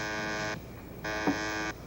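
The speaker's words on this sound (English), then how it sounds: "Your buzzer's ringing." Two long electric buzzer rings, each about half a second, separated by a short pause, loud and harsh with a steady drone.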